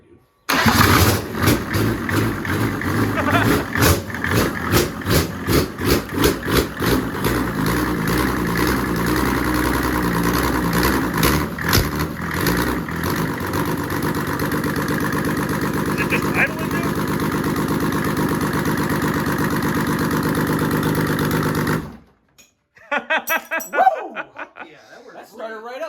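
A diesel-swapped 2JZ engine in a Datsun fires up for the first time, a loud, harsh, rough idle roaring steadily for about twenty seconds before cutting off, followed by people laughing.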